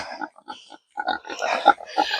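Pigs on a farm give a string of short grunting oinks in uneven bursts, fairly close and clear, with no talking over them.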